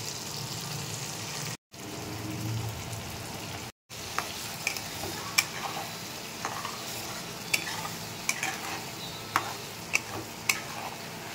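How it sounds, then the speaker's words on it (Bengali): Ground paste of onion, garlic, ginger and cashew frying with onions in a pan, a steady soft sizzle broken by sharp ticks of a spoon stirring against the metal, close by. "এবার পেস্ট করে রাখা মশলাটাকে পেঁয়াজের মধ্যে দিয়ে দেবো।"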